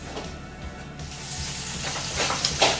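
A roast beef fillet sizzles in the pan as it finishes cooking, a close, hissing spatter that swells louder toward the end, alone without speech.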